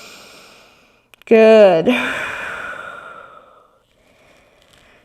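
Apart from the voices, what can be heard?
deep breathing in and out during yoga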